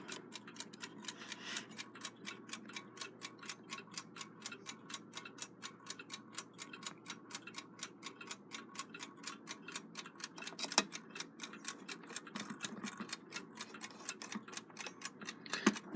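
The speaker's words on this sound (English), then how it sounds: "You can hear it's ticking very aggressively" A freshly rebuilt and wound Westclox Big Ben Style 5A wind-up alarm clock ticking fast and evenly, a crisp, loud, continuous stream of sharp ticks heard up close.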